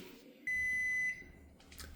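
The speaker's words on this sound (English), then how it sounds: "timer just went off" A kitchen timer beeps during sourdough loaf baking, a single steady high electronic tone holding for just over half a second before cutting off, followed by quiet kitchen clatter.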